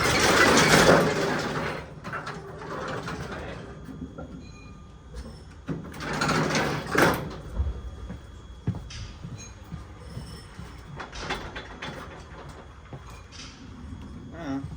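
A screwed-on metal door is cranked open with the wrong tools, bringing loud grinding, squealing metallic bursts with quieter scraping and creaking in between.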